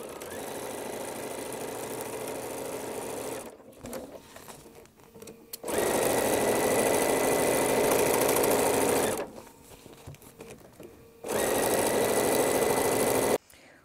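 A sewing machine stitches fabric for a reusable bowl cover in three long, steady runs of close, buzzing motor hum, separated by brief quieter pauses while the fabric is adjusted.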